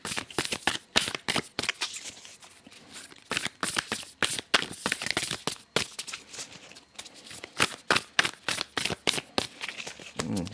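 A deck of Shamanic Medicine Oracle cards is shuffled close up in quick repeated riffles and flicks, coming in uneven bursts with short pauses between them.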